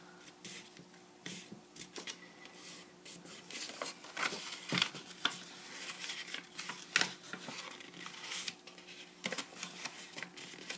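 Paper being creased and folded along score lines for a spinning pop-out page, heard as faint, close crinkles and soft rubbing scrapes with sharper snaps scattered through, quiet and without talk.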